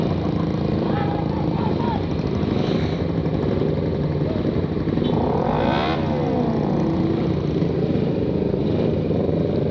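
Several bored-up motorcycle engines run together on a night ride, a continuous loud low rumble with a passing rising-and-falling engine sweep near the middle, with voices talking over the engine noise.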